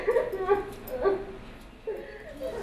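A dog whimpers and yips in short high bursts, reacting to simulated human crying played from a device, several close whines spread across the moment with a faint background of voices.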